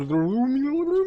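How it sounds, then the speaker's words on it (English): A short rising musical jingle plays when a Jiggy is collected in the video game Banjo-Tooie, a bright tonal phrase sliding upward over about a second, loud and clear with no talk over it. "sound is just getting a Jiggy, not necessarily any sort of teleport."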